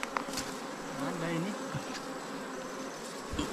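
Bees drone steadily around a wild rock bee nest deep in a forest, a continuous close buzzing hum with a few louder passes near the start and end.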